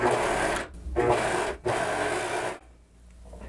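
A sewing machine stitching the start of a tulle blouse neckline, heard as three close, loud bursts of dense whirring separated by short pauses, then quiet.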